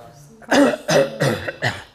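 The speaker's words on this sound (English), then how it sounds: "I have a cough today." A person coughs four times in quick succession, close and loud, each cough a short harsh burst.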